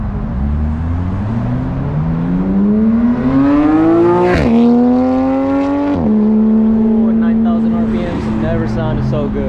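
An LS-swapped Nissan 240 at a local car meet revs loud and close, its engine pitch climbing in long pulls with a sharp blip partway, while people talk nearby.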